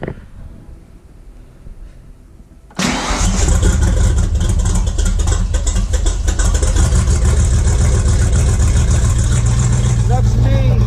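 An engine fitted with an 8-stack EFI setup catches after a quiet start and then runs loud and close, holding a steady, rough idle.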